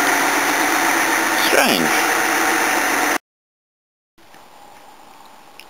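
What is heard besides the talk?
Toyota Cressida engine revving and idling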